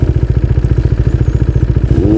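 Yamaha R6 superbike engine idling close by, a steady rapid low pulsing throb that rises briefly in pitch near the end, with no talk over it.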